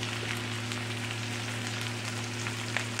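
Chicken pieces sizzle steadily as they go into a pan of lightly fried onion and garlic. The crackle of hot oil is close and even, with no voices.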